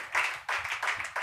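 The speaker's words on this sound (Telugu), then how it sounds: "చప్పట్లు కొట్టండి, గట్టిగా" Congregation clapping hands loudly in a church service, three or four bursts of dense, crisp clapping in quick succession with brief gaps between.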